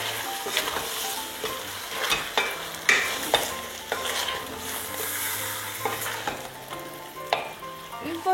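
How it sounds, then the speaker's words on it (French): Pieces of meat browning in a pot for couscous broth, a continuous close sizzle with regular scraping stirs and light knocks against the pot, no voices. "allez ajouter votre viande, donc vos morceaux de viande, comme ceci, et faites revenir le tout de nouveau"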